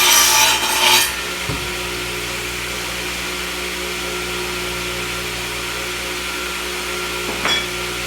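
A saw trims the factory edge off a wooden board for face frames: a loud, rough cutting burst in the first second, then a steady motor hum runs on alone with a brief knock partway through.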